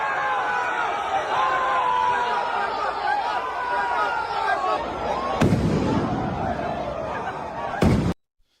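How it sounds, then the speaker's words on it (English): Mortar rounds firing pepper spray or tear gas at a riot: a crowd roars and chatters continuously, then two sharp, loud booming blasts cut through, the second ending abruptly, with voices shouting throughout. "No, those are called mortar rounds for either pepper spray, tear gas, or either it's a distractionary device."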